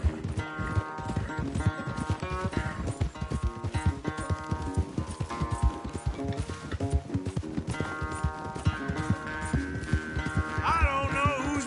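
Horse galloping hard in a race in Red Dead Redemption 2, a steady rapid drumming of hoofbeats throughout, mixed under orchestral music with sustained tones.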